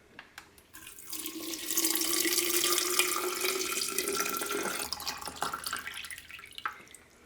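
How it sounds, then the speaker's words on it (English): Cold water is poured over herbs in a jar, giving a continuous close trickling gush that swells and then tapers off into a few drips. "And then you can just pour some cold water"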